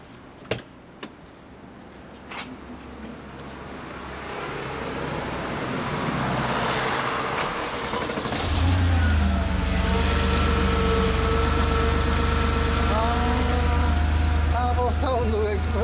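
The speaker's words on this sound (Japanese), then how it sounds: "ほんならエンジン音聞かせてもらえますか" A 1991 Porsche 911 (964) Turbo with a 3.3-litre turbocharged engine starts and settles into a steady, loud idle after some handling noises, a low rumble holding through the second half.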